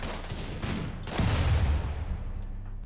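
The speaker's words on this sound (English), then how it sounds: "They're throwing grenades everywhere." Rapid gunfire bursts and grenade blasts erupt inside a colony base during a raid in the RimWorld video game, with dense crackling volleys and a louder, heavier blast swell in the middle.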